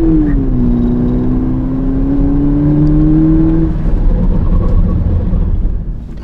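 VW Polo GTI 2022 with a 207 hp engine pulling hard in first and second gear, wheels spinning at the shifts; a loud, close engine note climbs steadily, then drops and turns rougher after a gear change.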